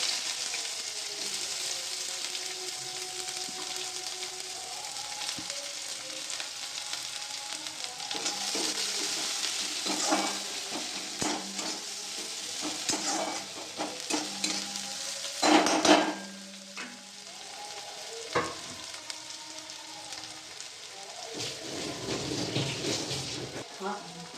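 Onions hit hot oil seasoned with cumin in a home kitchen pan and sizzle continuously, while a spatula stirs and scrapes in repeated uneven strokes, loud and close.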